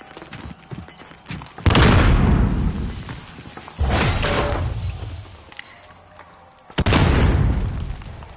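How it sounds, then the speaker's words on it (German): Grenade explosions in the Warzone video game: three loud booming blasts, each with a sharp onset and a long rumbling decay, spaced a couple of seconds apart with quieter game ambience between. "Werfe Granate."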